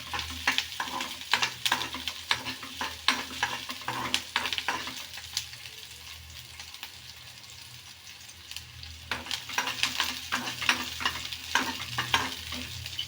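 Onions are frying and sizzling in a pan for curd sambar while a spoon stirs them in repeated scraping strokes. The sound is close, with a steady crackle under the stirring.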